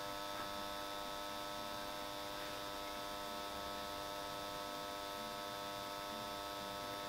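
Steady mains-frequency hum and buzz from the ballast of a lit GE 400W metal halide high bay lamp, droning constantly and fairly loud with no speech or other sounds.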